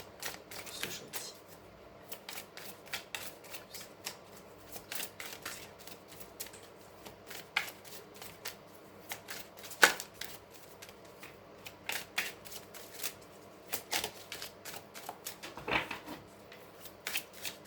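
Tarot cards being shuffled and cut by hand, a run of soft papery riffles and taps spread across the stretch, fairly quiet and close, with no talking.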